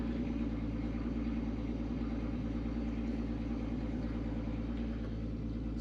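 A turbocharged 12-valve VR6 in a Mk2 VW Jetta idles steadily after a cold start, a smooth continuous low rumble with an even, slightly lumpy pulse and no talk over it.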